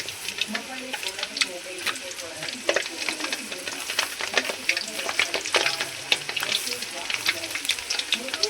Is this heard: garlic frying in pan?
yes